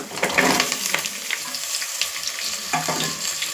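Crushed jackfruit seeds fry in hot oil with softened onions, giving a close, steady crackling sizzle broken by a few louder scraping stirs of the pan.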